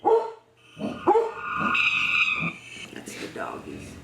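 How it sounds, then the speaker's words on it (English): Dogs bark in the distance at a reportedly haunted old prairie site at night, short yips and barks in bursts mixed with people talking nearby. "That's the doggies."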